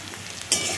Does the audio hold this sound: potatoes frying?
yes